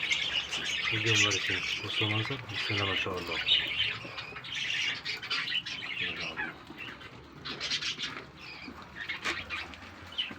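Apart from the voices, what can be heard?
pet birds chirping while eating clover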